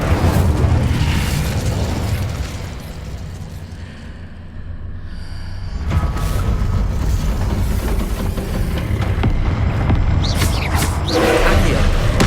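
An Incendio fire spell cast in Hogwarts Legacy makes a loud, sustained whooshing, booming roar of flame and explosions that fills the whole stretch and swells again toward the end.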